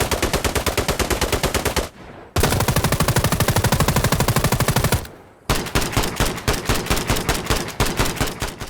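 Rapid automatic gunfire from a weapon in the shooter game Sniper Ghost Warrior 3, three loud sustained bursts of sharp shots separated by brief pauses.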